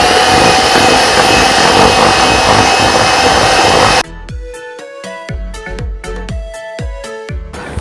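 An electric beater whips sugar and condensed milk into steamed chocolate cake batter with a loud, steady whir for about four seconds, then cuts off abruptly and gives way to quieter, sharp tonal taps.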